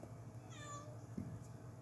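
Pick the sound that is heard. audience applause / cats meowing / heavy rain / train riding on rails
cats meowing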